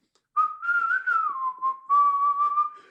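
A person whistles a wavering tune, imitating a warehouse supervisor whistling while walking around. The whistle is loud and close, gliding up and down in pitch, with a short break partway through before a steadier held note.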